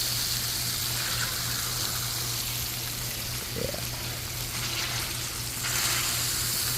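Food sizzles on a hot flat grill as it is pressed down, a continuous dense hiss and crackle close by, with a brief scrape of a utensil partway through and no voices.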